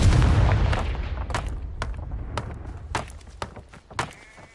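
Spell blasts in the video game Hogwarts Legacy: a heavy, rumbling boom opens the sequence and fades, then a string of sharp, cracking impacts follows at irregular intervals.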